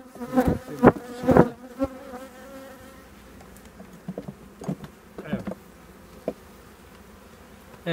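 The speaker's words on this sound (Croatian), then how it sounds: "Znači sve pčele sa legla stresemo radi matice." Honeybees buzz at an opened beehive as combs are shaken, a close, dense droning hum with a few loud knocks and thumps early on, then steadier swarming buzz.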